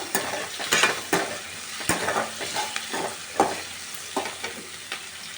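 Onion and capsicum sauté in a pan over a low flame, a steady sizzle under frequent scraping and stirring strokes of a utensil.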